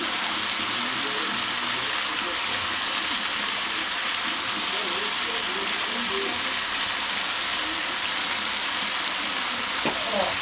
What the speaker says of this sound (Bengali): আমার মাংসটা আমি কষাচ্ছি, আমি একটুও জল দিইনি